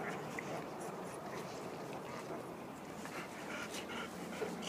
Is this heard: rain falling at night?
no